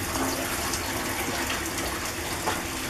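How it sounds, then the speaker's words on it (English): Water runs steadily from a household tap fed by the council mains, a continuous close rushing gush that holds at an even level throughout. "If I switch on the tap, you can see the water's running"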